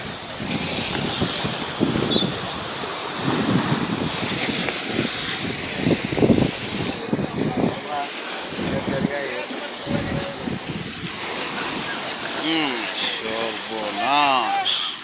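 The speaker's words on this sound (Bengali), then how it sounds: "কি ঢেউ দিয়ে দেয়" Rough Arabian Sea waves and gusting wind roar continuously up close, while people talk excitedly over the surf.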